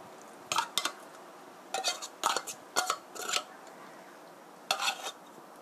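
Drained canned tuna added to a mixing bowl for tuna croquettes, a series of short clinks and scrapes of a utensil against the bowl in uneven bursts, close and moderately loud, with no talk.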